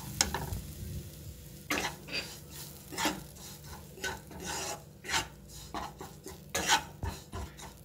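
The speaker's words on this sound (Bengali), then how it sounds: "এবার এর মধ্যে ব্রেড ক্রাম্বসটা দিয়ে দিচ্ছি।" Bread crumbs being added and mixed in a bowl for chicken Mughlai bites, heard as a series of close, irregular scraping and rasping strokes of a spoon, rising and falling in uneven bursts.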